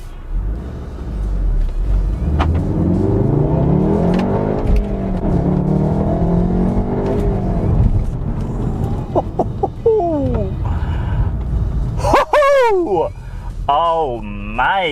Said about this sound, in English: let's just should we give it a quick launch?